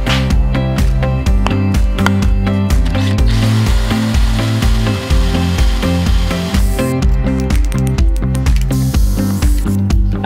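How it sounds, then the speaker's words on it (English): A power drill bores into the inside of notches cut in a steel fire pit, a loud sustained whine pulsing in rapid regular bursts as the bit bites into the metal, with no talking. "To finish off the notches, I'm going to drill the inside so I have a nice round profile"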